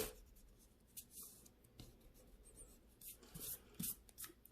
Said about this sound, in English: Now we take our eraser and we erase our lines.